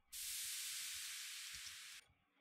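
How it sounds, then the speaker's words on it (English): A noise crash sound effect plays alone: a sudden, bright burst of hissing broadband noise that holds for about two seconds, thins slightly, and then stops abruptly. "A noise crash,"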